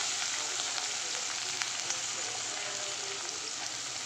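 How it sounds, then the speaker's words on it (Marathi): Onions sautéing in a hot pan with garlic and green chillies for a spinach dish, giving a steady, close, even sizzle throughout with small crackles and no talking. "चला कांदे थोडे परतून घ्यायचे"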